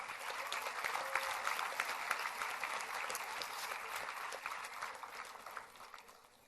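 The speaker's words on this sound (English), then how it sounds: "They all deserve a huge round of applause," A convocation ceremony audience applauds the award winners with sustained, dense clapping that holds steady and then begins to thin and fade toward the end.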